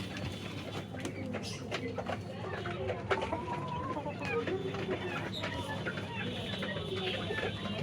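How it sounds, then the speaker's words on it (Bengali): Sultan chickens of an original Turkish breed cluck and call in a pen, with other birds cooing and chirping around them, a busy, continuous flock sound under someone talking nearby. "এই সাইডে আছে হচ্ছে আপনার তুর্কির অরিজিনাল ব্রিডের সুলতান মুরগি"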